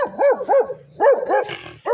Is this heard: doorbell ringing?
no